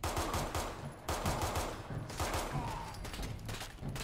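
Fallout 4 combat brings rapid bursts of gunfire, dense and loud, with brief lulls between volleys.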